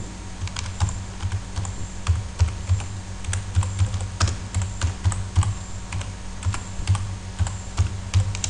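Steady typing on a computer keyboard, a rapid run of close, crisp key clicks with irregular rhythm and a few louder strokes, heard alone without talk.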